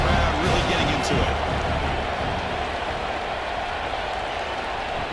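A stadium crowd roars in a Florida versus Miami college football video game on third down, a dense, loud, continuous wash of cheering and noise that holds steady throughout.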